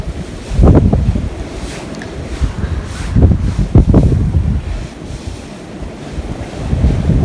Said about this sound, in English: I hear that wind.